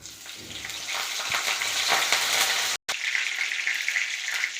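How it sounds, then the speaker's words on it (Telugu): Curry leaves drop into hot oil in a pan where fish is frying, producing a loud, continuous crackling sizzle close up, interrupted by a brief drop-out before the spitting resumes. "ఇప్పుడు మనం ఇందులో కరివేపాకు వేసుకుందామండి."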